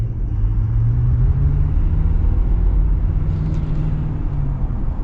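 A 2021 Ford F-350 Platinum heavy-duty truck accelerates on an open road, its engine a deep, steady, loud rumble heard from inside the cab, holding strong throughout.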